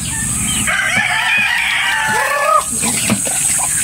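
Chickens cluck and a rooster crows loudly nearby, with warbling calls layered over steady outdoor noise.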